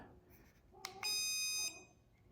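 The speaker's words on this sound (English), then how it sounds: "And then I'm guessing that does the sound mode." A UVZSDA remote dog shock collar in sound mode gives one loud, close electronic beep lasting about half a second, steady and high-pitched, just after a faint button click.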